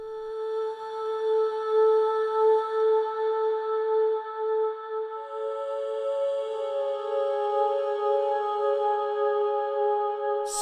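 Sustained synth-like tones shaped with EQ and reverb in Logic Pro X hold steady, layered pitches with a wide, airy wash, a new higher note joining midway, and no voices.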